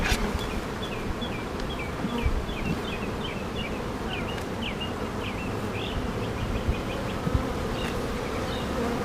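Honeybees in an opened, formerly queenless hive near swarming, a dense continuous buzzing hum at close range with individual bees whining past, and no voices.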